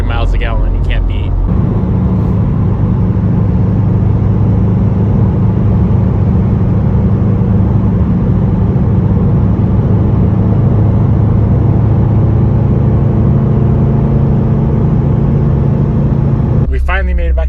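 Mitsubishi Evo on a long drive, a steady loud engine hum and road rumble from inside the car, cut by brief bursts of noise at the start and end, with a voice speaking at points.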